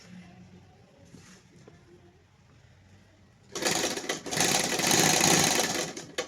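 Sewing machine stitching a pocket onto a pair of trousers, the motor bursting into a loud, steady whir after a few seconds of quiet room noise and faint voice.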